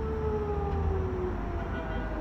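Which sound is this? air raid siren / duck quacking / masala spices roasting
air raid siren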